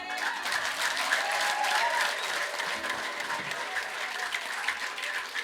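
A church congregation claps together in a long sustained burst of dense, steady applause filling the hall, close and loud, with faint voices beneath.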